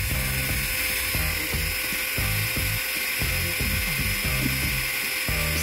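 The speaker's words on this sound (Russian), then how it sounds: "Спиливаю немножко с ногтевого валика." An electric nail drill running at full speed files the nail fold during a manicure, a continuous high-pitched whine close up, its pitch wavering slightly as the bit presses and lifts.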